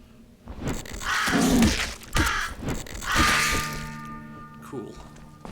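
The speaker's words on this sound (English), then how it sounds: "Birds." Crows caw loudly several times in the Legend of Grimrock dungeon crawler, harsh close calls mixed with thumps while a person talks over them.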